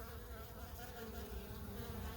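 Drone honey bees fill the air with a dense, continuous buzzing that holds steady and close throughout, with no voices over it.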